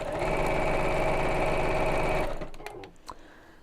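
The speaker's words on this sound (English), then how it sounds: "so I'm sewing right next to the piping cord, and just line up the edge" A sewing machine stitches a seam on a bolster cushion cover right beside the piping cord, running in a fast, steady, close-up whir for about two seconds before stopping, followed by a few light clicks.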